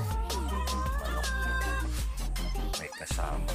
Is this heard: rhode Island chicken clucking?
yes